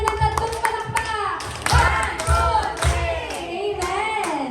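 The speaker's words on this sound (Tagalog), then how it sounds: "Mabigyan natin sa atin natin ng tatlong palakpak!" An audience at a 21st birthday celebration claps in three rounds, sharp hand claps in quick bursts with voices and shouting mixed in.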